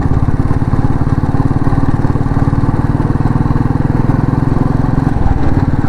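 An old Royal Enfield Bullet single-cylinder engine thumps in a fast, even rhythm while riding from Kukke Subramanya to Sakaleshpura, loud and close throughout with no talk.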